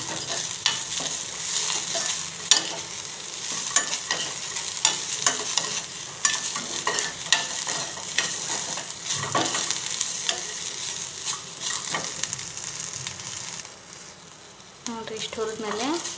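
Ingredients for chickpea sambar roasting in a pan, heard as a steady sizzle with repeated scraping and stirring strokes of a spoon against the pan, close and continuous, briefly quieter near the end.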